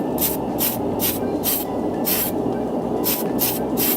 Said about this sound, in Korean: 이런 이제 캔 스프레이 하나만으로도 도색이 끝난다는 점